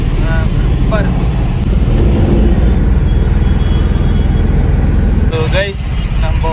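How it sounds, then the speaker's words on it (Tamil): Heavy road traffic near the Kathipara junction in Chennai: a continuous engine rumble with passing vehicles close by, and a few horn toots rising over the drone. "இப்பயும் டிராஃபிக் பாருங்களேன்."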